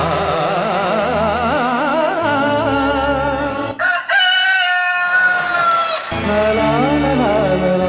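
Chickens cluck and a rooster crows loudly and close by, with the crow rising and holding before clucking resumes, all without speech.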